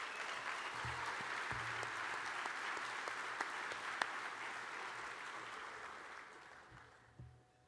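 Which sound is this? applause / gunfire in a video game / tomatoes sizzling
applause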